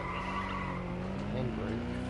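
A car handbrake skid in Watch Dogs Legion: a sustained tire squeal with engine drone running the full two seconds, steady and close, with a voice speaking over it.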